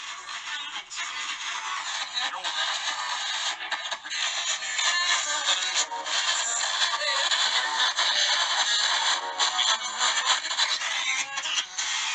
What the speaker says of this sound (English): now with white noise you hear this.